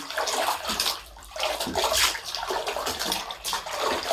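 Water sloshes and splashes in bursts as a knitted lace shawl is swished and rinsed in a basin of vinegar water, close by, with short pauses between movements.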